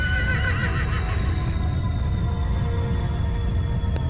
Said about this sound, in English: I wonder if Ganon's horse has a name